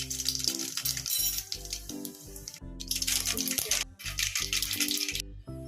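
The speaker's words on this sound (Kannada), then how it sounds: "ಆಯಿಲ್ ಹಾಕೊಂಡು ಈಗ 1 ಚಮಚ ಸಾಸಿವೆ ಹಾಕೋತಾ ಇದೀನಿ." A spoonful of mustard seeds lands in hot oil in a pan, setting off loud, close crackling and rapid popping that sputters on in dense bursts with short gaps.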